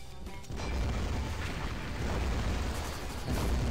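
A sudden heavy blast booms in after a quiet start, followed by a rumbling, crashing roar and a second jolt near the end.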